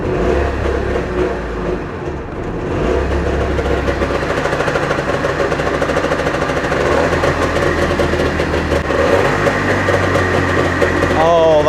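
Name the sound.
Trabant two-stroke car engine starting and idling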